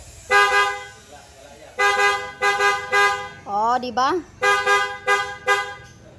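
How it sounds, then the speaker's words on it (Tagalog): A Kawasaki Z H2 motorcycle horn honks in a series of short beeps, close and loud, with a brief spoken exclamation between the honks. "Oh, busina ulit."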